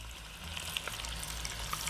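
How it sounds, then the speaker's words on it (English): Hot oil sizzles and crackles steadily in a pan with bacon, with scattered small pops over a continuous frying hiss. "Here it's sizzling."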